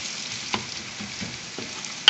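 Garlic ginger paste stirred in a hot frying pan, a soft steady sizzle with a few scraping clicks of the spoon against the pan and a sharper clatter at the end; no talking.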